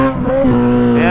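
A Kawasaki Z1000 motorcycle with a straight-pipe exhaust revs loudly up close, its steady engine drone rising briefly in pitch and then holding.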